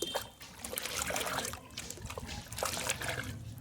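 A mugful of water poured onto the base of a sapodilla tree, a steady soft trickle and splatter heard close up for a few seconds.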